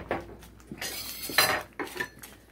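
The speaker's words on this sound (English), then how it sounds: "I need to keep stirring while I'm waiting." A spoon stirring chopped beef and gravy in a pot, scraping and knocking against the metal in a few short, close strokes.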